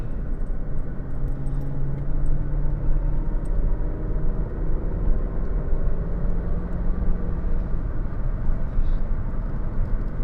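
A car with a newly installed Strutmaster conversion kit drives along, its engine and road noise forming a loud, steady rumble with faint hums of gear changes throughout.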